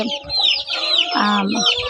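Caged breeder hens on an egg farm cluck and squawk loudly and continuously at close range, many birds overlapping in a busy, crowded chorus.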